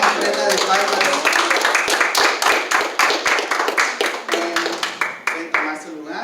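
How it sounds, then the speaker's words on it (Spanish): A church congregation claps together as an offering, sharp unified hand claps in a steady rhythm with some voices and a sung tone under them, tapering toward the end. "Ofrenda de palmas."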